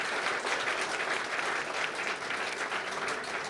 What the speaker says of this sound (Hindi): एक बार ज़ोरदार तालियां खुद के लिए बजा लीजिए।